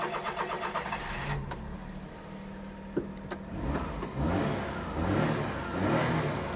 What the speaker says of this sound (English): Okay, have a listen to the engine.